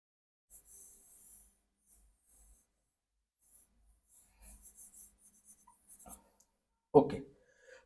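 Pen or chalk writing during a chemistry lecture, short scratchy strokes in bursts with pauses between them, fairly quiet, ending in a louder knock near the close, with no talking over it.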